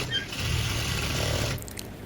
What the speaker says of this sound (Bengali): সুন্দর করে সেলাই করে হাতা লাগিয়ে নেব।